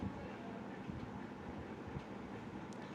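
A train running on rails in a film scene, a steady broadband rumble with faint rhythmic clatter, fairly close and continuous with no talking.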